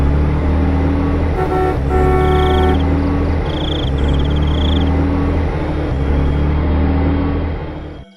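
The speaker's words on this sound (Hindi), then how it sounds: "फिर वो तीनों गाड़ी में बैठ जाते हैं और वहाँ से भागने लगते हैं।" Car on a highway driving off with a steady engine hum and road noise, brief tooting horn notes sounding over the motor midway, then the sound quickly falls away at the end.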